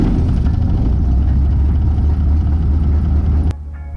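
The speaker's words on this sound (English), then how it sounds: "let's get this engine started" A small aircraft engine runs steadily at idle just after starting, a loud low rumbling drone that holds even throughout, then drops to a softer tone near the end.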